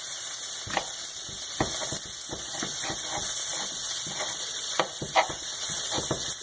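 Beech and enoki mushrooms stir-frying in a pan with Thai ginger make a steady close sizzle and steamy hiss, broken by irregular clicks and scrapes of stirring, with no talk.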